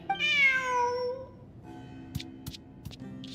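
A single cat meow in Genshin Impact, clear and close, rising then falling, followed by a few faint clicks and soft background sounds.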